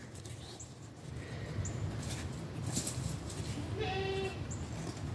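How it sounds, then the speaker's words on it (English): A goat bleats faintly and at a distance outdoors, a short wavering cry rising out of a steady wash of background noise. "My goat's hollering."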